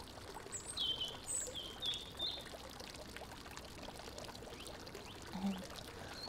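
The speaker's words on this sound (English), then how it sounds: "I love how this water feature has some very relaxing sounds." A garden water feature at a garden centre pours and trickles steadily in the background, fairly quiet, with brief bird chirps overhead and a few faint outdoor ambient sounds.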